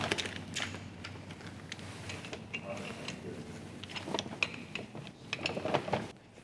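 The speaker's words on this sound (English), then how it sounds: "we need to clamp the bag into this device" A filter bag being clamped into a Krantz re-cleanable filter device gives off a run of small mechanical clicks, rattles and metallic knocks, close and moderately quiet, with people talking at the same time.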